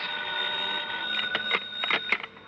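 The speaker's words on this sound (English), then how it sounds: "the phone beside my bed started jangling again" A bedside telephone rings in a radio drama, a steady electric jangle with rapid clattering bursts of the bell, loud and close, with no voices over it.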